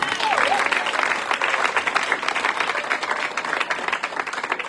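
A church congregation applauds and claps steadily, a dense wash of hands filling the room throughout, with a bit of crowd voice mixed in.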